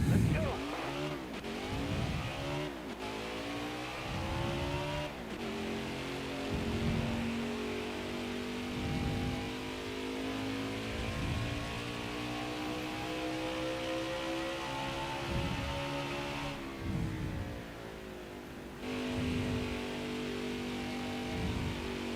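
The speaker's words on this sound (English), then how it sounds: "Get this car really, really going here." A NASCAR Heat 4 race car accelerates at New Hampshire, its engine rising through repeated upshifts in a continuous whining roar, with a commentator talking over it.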